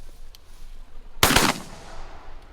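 A single close shotgun blast during duck and goose hunting in Alberta, loud and sharp with a short reverberant tail fading into quiet outdoor air.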